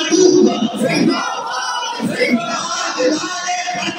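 Large mosque crowd at a Friday sermon shouting a unison response to a religious slogan, a loud collective roar of many voices sustained through the whole stretch.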